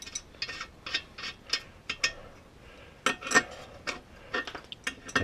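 Metal clicks and ratcheting as a large nut is tightened back onto a Maytag single-ignition engine, a quick run of close, crisp ticks in short bursts with pauses between.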